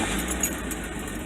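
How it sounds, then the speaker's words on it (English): A Mazda Miata's engine idles with a steady, low rumble, evenly and quietly without rises in revs, with a faint hiss over it. "Right off the bat, it's idling better"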